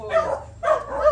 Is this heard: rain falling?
no